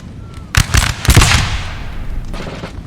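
Musket volleys in a Napoleon Total War multiplayer battle with French and Russian infantry, a ragged crackle of many shots in a couple of bursts, sharp and loud, trailing into a rolling din.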